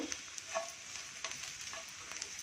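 Crushed garlic roasts in oil in a pan, a soft steady sizzle with light crackles and occasional faint scraping of a spoon, quiet and close, with no talking.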